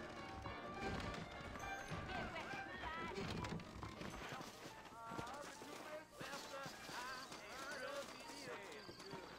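Horses gallop with quick rhythmic clip-clops in the Red Dead Redemption video game, with a whinny among busy game sound and voices talking over it.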